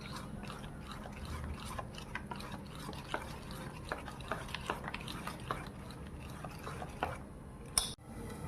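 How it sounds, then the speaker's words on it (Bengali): A spoon stirs batter after a spoonful of lemon juice has been added to activate the baking soda, giving soft scraping and wet swishing strokes at a steady rhythm, close and fairly quiet, with one sharp knock near the end. "এবার এটাকে আমি নাড়তে থাকবো।"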